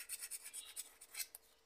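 A copper motor part from an Oster blender being sanded with A99 sandpaper, heard as quick, bright rasping strokes in an irregular rhythm, close and moderately loud, with no voices.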